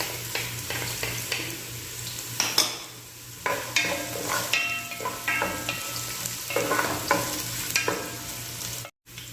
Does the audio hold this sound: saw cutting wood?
no